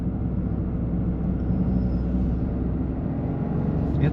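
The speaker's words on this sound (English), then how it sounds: "Oh, the turbo is loud on this thing." The turbocharger of a 2025 Toyota GR Corolla Premium whooshes over a low, steady engine rumble as the car cruises at low revs, heard from inside the cabin.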